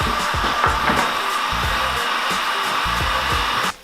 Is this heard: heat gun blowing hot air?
yes